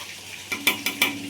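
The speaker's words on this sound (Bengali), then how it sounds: "আর এদিকে আরও এক দেখো মাছ কড়াই দিয়ে দিলাম" Fish frying in a wok for a fish curry gives a low steady sizzle, broken by three or four quick metallic clinks of a utensil against the pan.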